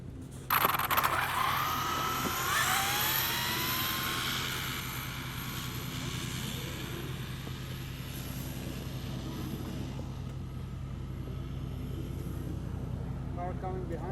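An Arrma Limitless RC car on a speed run gives a high electric motor whine that sweeps upward in pitch early on, then fades into a steady, distant drone.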